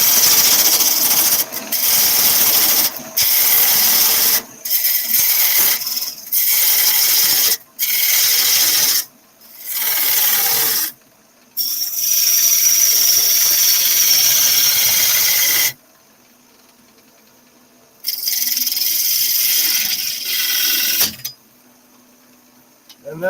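Wood spins on a woodturning lathe while a gouge cuts in a series of loud scraping, rasping bursts separated by short gaps, followed by a longer continuous cut, then quiet pauses. A tool catch is part of the cutting.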